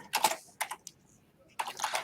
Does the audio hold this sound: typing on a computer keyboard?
yes